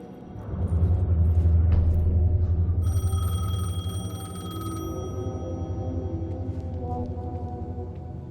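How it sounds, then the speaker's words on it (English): A payphone rings in the Alan Wake II video game, steady electronic bell tones repeating for a couple of seconds over a low, rumbling ambient background, fairly close and clear. "The payphone was ringing."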